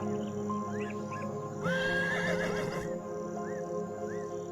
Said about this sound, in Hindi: घोड़ा गाड़ी आ गई। घोड़ा गाड़ी आकर रुक गई।